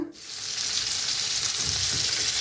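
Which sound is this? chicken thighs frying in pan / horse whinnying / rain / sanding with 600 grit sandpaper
chicken thighs frying in pan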